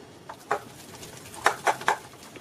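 Soaked dry fruits stirred into a thick eggless plum cake batter with a utensil, giving a few soft, scattered clinks and scrapes against the bowl in a quiet kitchen.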